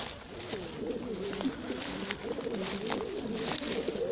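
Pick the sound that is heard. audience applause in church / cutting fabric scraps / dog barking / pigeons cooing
pigeons cooing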